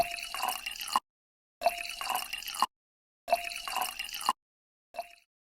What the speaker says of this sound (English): that's supposed to be the sound of the champagne that she's going to be launching being poured